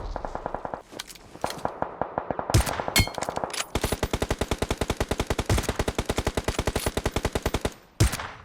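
Video game gunfire in rapid automatic bursts: tight, evenly spaced shots rattling in long, loud strings with a few heavier single cracks between them and short pauses, close and dominant.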